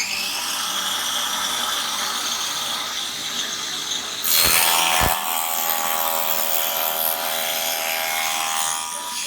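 A bench saw cuts wooden keel and rudder pieces for a radio-controlled fishing boat, a continuous loud whirring buzz with a sharp change in pitch midway as the blade bites, no voices.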